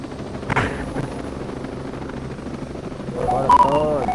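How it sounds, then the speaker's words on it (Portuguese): A helicopter in Ghost Recon Breakpoint lifts off with a steady, loud rotor and engine drone throughout. Talk sits under it, and there are brief interface-like chirps near the end. "Sobe o helicóptero."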